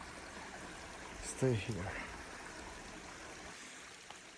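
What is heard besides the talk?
river stream flowing on a farm in Portugal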